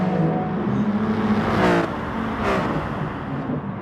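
Race cars in Gran Turismo Sport at the Lago Maggiore circuit roar steadily, with engines revving and two quick passing sweeps rising and falling near the middle, loud and continuous with no talk.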